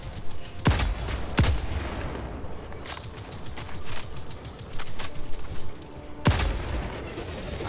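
Bursts of automatic gunfire aimed at an Automaton bot fabricator in Helldivers 2, with several loud, sharp cracks standing out over a dense, continuous rattle of battle noise and no voices.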